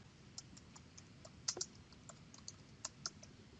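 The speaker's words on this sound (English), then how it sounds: "here I'm going to type weekly task" Quick, light keystrokes on a computer keyboard tap out a short phrase in an irregular burst, close and quiet in an otherwise still room.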